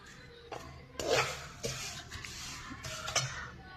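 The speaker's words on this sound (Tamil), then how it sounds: "நீங்கள் வேப்பந்தலையையும் போட்டு நல்லா ரோஸ்ட் பண்ணிக்கோங்க." Neem leaves are roasted in a metal pan, giving quiet scraping and rustling strokes of a stirring spoon in an irregular rhythm, close and fairly soft with no talk.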